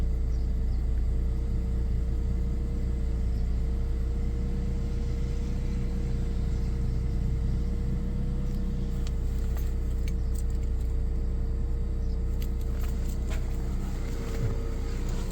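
A BMW E36 with the M43 engine idles steadily, a continuous low rumble with a faint whine, close and unchanging throughout with occasional light rattles.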